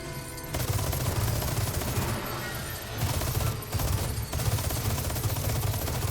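Sustained gunfire in the video game Resident Evil 4 Remake, a dense, steady barrage of shots rattling loudly with a few brief gaps, nearly free of talk.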